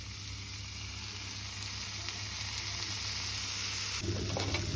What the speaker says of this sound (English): fry 2 bacon medallions until they're crispy